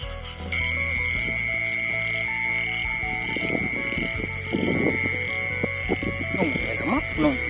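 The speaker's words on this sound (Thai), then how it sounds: "กบกบกบ" Frogs croak in irregular bursts over a steady insect hum on the first rainy night in the open fields of Thung Kula Ronghai in Isan, Thailand, moderately close.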